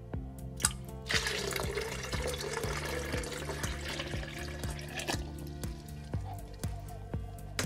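Water is poured out of a cup into a sink, a continuous splashing pour over a low hum, with a few clicks and knocks around it.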